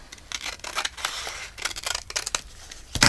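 Scissors snip through a sack bag in a run of crisp, close cuts, scraping and crunching strokes separated by short pauses, closing with a louder rustle of the sack material.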